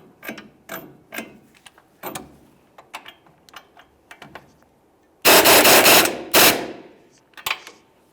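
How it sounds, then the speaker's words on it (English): Quick bursts of ratcheting from a wrench tightening the ball joint stud nut on a lower control arm of a 1999-2006 Chevrolet Silverado, sparse clicks first, then two loud close runs near the end. "If you find you're having a hard time tightening this because the ball joint stud spins"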